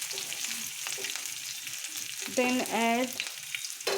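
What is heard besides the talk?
garlic and ginger frying in a pan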